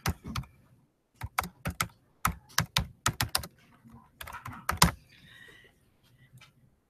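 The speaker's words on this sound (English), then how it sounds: "you can just double click in it and start typing" Bursts of quick keystrokes on a computer keyboard while a document is being typed, with clusters of sharp close clicks separated by brief pauses and no talking.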